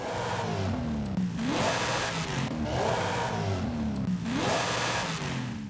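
A widebody Subaru S209 engine with stock exhaust revs repeatedly in the video game Forza Horizon 5, rising and falling in pitch in three long sweeps, loud and close with a steady mechanical roar between pulls.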